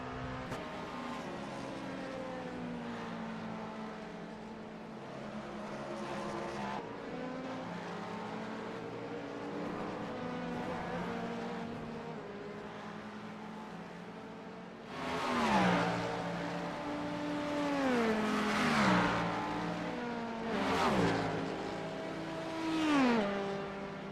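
Race cars circulating at Watkins Glen during a four-hour endurance round, engines droning and shifting pitch as they pass, with several louder revving passes later on; no talking.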